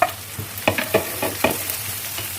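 Chopped onion, carrot and red, green and yellow capsicum are tipped and stirred into a hot frying pan, with several close clattering scrapes over a steady sizzle.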